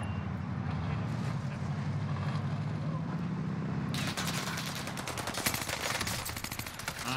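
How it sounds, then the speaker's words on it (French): Gunfire in the video game Warzone, bursts of rapid automatic shots over a constant rumbling vehicle engine, the firing becoming dense and continuous partway through, with players' voices faintly in the mix. "y'a un gars qui tire là"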